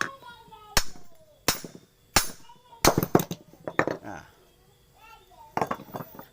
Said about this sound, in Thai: ก็ใช้ค้อนเคาะ